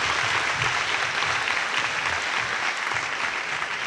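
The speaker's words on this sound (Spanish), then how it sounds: "un aplauso para Casto Rivadulla de la Universidad de La Coruña" Sustained applause from a conference audience fills the room, dense steady clapping at full volume throughout with no break.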